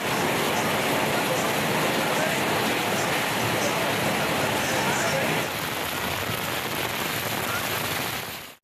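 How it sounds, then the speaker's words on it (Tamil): Heavy rain driven by strong wind in the Alangulam area of Tenkasi district, Tamil Nadu, a dense, steady roar of downpour filling the whole clip, easing slightly in intensity partway through. "தென்காசி மாவட்டம் ஆலங்குளம் சுற்றுவட்டாரங்களில் பலத்த காற்றுடன் மழை பெய்தது"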